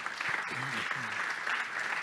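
An audience at a business startup day event applauds a company founder coming onstage, continuous dense clapping throughout with a voice briefly heard over it.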